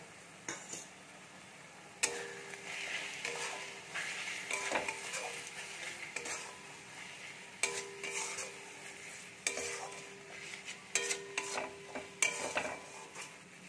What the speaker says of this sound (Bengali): এই মশলাটা দিয়ে আমি ভালো করে আবারও কষিয়ে নেব।